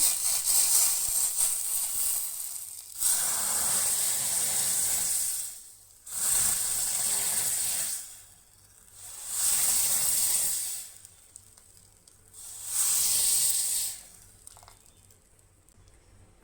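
Garlic tadka sizzling as it is poured into a simmering spinach chana masala curry: three loud hissing bursts, each a few seconds long, separated by quieter stretches of low crackle and bubbling.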